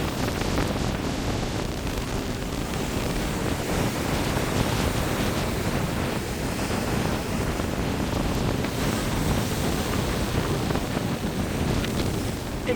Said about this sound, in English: I'm just going to get some close-up shots of the waves